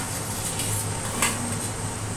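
Fried pumpkin leaves are ground into a paste, giving a steady, close scraping and rubbing with a few small knocks and no voices.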